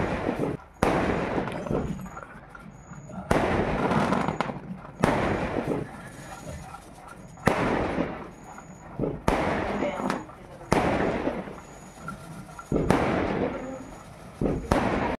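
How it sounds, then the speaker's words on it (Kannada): Festival firecrackers and fireworks in a village go off in a rapid series of loud bursts and crackling pops, repeating roughly every second or two with sizzling tails between. "ಹಾಗಾಗಿ ಪಟಾಕಿಗಳನ್ನೂ ಕೂಡ ಹಾಕ್ತಾಯಿದ್ರು."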